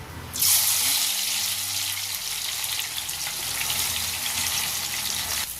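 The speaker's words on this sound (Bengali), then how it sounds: "একটা কড়ার মধ্যে কিছুটা তেল গরম করতে দিয়েছি, গরম হয়ে গেছে। এবার কেটে রাখা পেঁয়াজটা ছেড়ে দিচ্ছি।" Sliced onions dropped into hot oil in a kadai to fry for beresta, bursting into a loud, close, bright sizzle that holds steady and crackling without a pause, with no talking.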